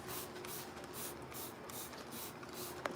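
Rhythmic bursts of hissing spray, repeated about every half second, fairly quiet and steady, with no one speaking.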